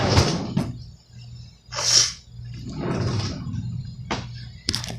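Kitchen cupboard door opening and closing during egg cooking, a few distinct knocks, creaks and thumps spread over several seconds, close and fairly loud amid household movement.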